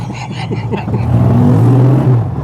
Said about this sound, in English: It's got a big Hulk exhaust